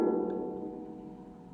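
A single high thwack from tapping a statue, a sharp onset followed by a ringing metallic tone that slowly decays over a second and a half, close and alone.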